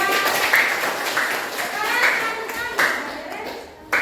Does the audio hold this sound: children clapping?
yes